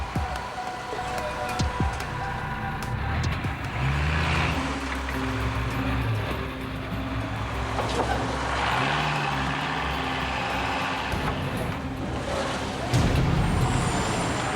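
A truck engine strains hard on a muddy, potholed jungle road in Guyana, a loud, steady low drone with bursts of hiss and clatter running throughout, with faint voices in the background.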